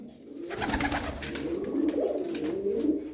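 Bango pigeons from a show loft, birds with yellow leg bands, coo in soft overlapping phrases close by, a continuous low warbling murmur with no talk.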